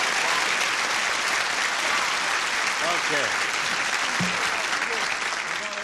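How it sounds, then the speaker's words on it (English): A studio audience on a game show applauds to welcome two contestants, a dense sustained clapping with a host's brief voice cutting through partway. "Would you give a polite applause of welcome"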